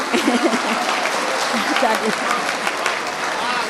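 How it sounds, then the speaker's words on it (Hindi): Loud applause from a mushaira audience, with sustained dense clapping throughout and faint voices mixed in. "एक बार ज़ोरदार तालियां"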